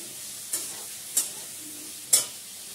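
Katla fish and onions being sautéed in a pan, heard as three separate scraping stirs against a faint background sizzle, close by, with no talking.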